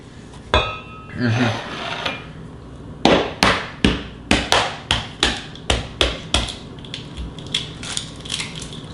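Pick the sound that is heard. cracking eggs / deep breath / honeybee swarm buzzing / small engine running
cracking eggs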